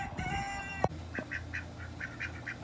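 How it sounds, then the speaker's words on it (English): Chickens on a farm cluck in short, repeated bursts as they are let out of their coop, preceded by a brief louder bird call and a sharp knock, over steady outdoor background noise. "I'm letting the chickens out"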